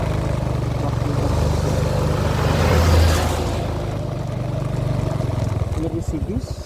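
A Honda XRM 125fi motorcycle engine drones steadily while riding toward Sula Bridge in Albay, a loud, continuous low hum with wind rush that swells near the middle and carries on under a voice.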